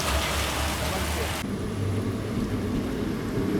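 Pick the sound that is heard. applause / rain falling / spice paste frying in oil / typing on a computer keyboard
rain falling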